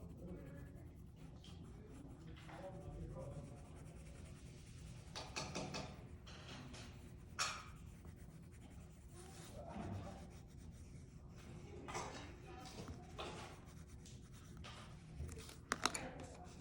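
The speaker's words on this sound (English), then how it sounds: "I'll start with adding a little bit of shadow using my colored pencil." Colored pencil shading on paper, a quiet continuous scratchy rubbing with soft strokes and occasional louder scrapes, close and faint, with no talking.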